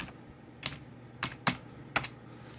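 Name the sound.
typing a password on a computer keyboard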